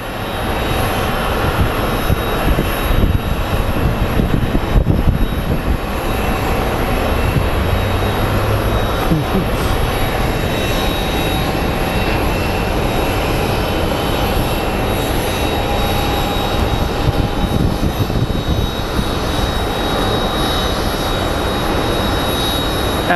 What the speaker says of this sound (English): So Alaska Airlines 782 coming in from Seattle. It's a 22-year-old